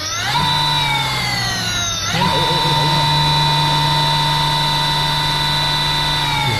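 Electric motor of a heavily modified student's e-bicycle spinning its wheel, a loud steady whine that rises in pitch, dips briefly, then holds a constant high tone throughout.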